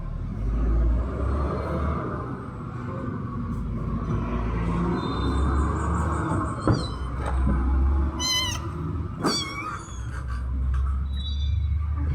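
Cat meowing several times, a few short close meows rising and falling over a loud low rumble of engine or traffic noise, no talking.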